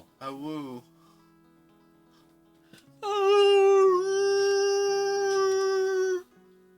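A person's voice imitates a Yeti howl: a short wavering yelp, then a pause, then a long, loud, sustained tonal howl lasting about three seconds before cutting off.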